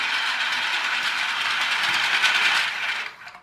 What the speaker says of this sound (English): It's sort of a train set.